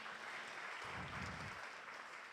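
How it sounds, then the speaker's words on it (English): A crowd at an innovation-week presentation applauds after a talk, a dense, even wash of clapping lasting a couple of seconds, with no voices over it. "Let's offer them a better round of applause"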